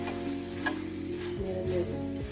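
A paratha frying in oil in a pan, a steady close sizzle with scraping stirs and utensil clicks, alone without voices.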